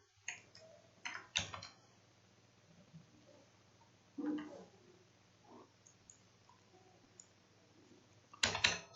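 Computer keyboard clicks come in small sparse clusters while Python code is typed, faint and close in a quiet room, with a few louder clattering bursts.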